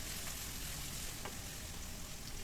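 Half a cup of chopped onions fries in hot soybean oil for chicken and vegetable khichuri, giving a dense, even sizzle that holds steady throughout the short stretch, with no voices.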